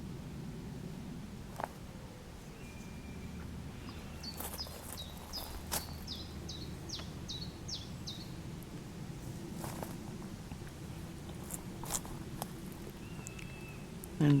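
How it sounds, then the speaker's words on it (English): Birdsong in a Kent woodland and meadow on a dry July day, with a few short chirp series and scattered faint calls over a quiet outdoor background and light rustling. "Birds are singing."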